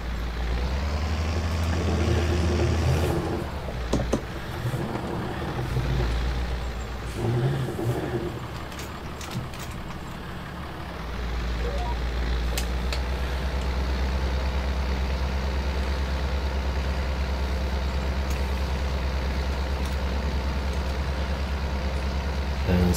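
A tractor on wide tyres in Farming Simulator 22 runs with a steady, loud engine drone that dips briefly and then revs back up, heard alone throughout.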